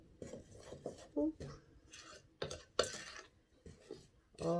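Dry biscuit ingredients, flour and salt among them, are stirred together in a bowl, giving scraping, clinking strokes of utensil against bowl in uneven bursts, close and moderately loud with no talk.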